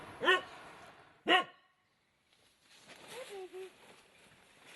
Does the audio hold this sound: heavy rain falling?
no